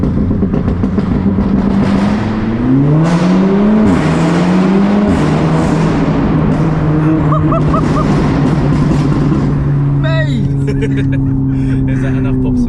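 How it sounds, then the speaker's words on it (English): An Audi S3 Saloon with a very loud exhaust revs hard from inside the cabin, engine note rising and falling with crackling pops and bangs near the end, while people talk over it. "Is that enough pops and bangs for you?"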